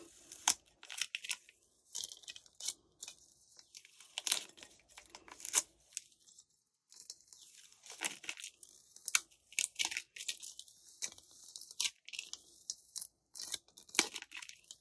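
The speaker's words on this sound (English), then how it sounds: "So we're just carefully peeling this off, the transfer tape off the vinyl." Transfer tape peeled slowly off a vinyl stencil stuck to a wine glass, giving repeated close crackling, tearing strips in bursts of a second or two with short pauses between, quiet overall and with no voices.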